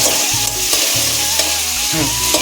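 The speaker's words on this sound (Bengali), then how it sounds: "এক হাত দিয়ে আর কি খুন্তি নাচ্ছি যদি আলুটা ধরা লেগে যায় পুড়ে যায়" Potatoes frying in oil as a spatula stirs and scrapes them in the pan, with loud continuous sizzling broken by repeated scraping strokes, close up and with no talking.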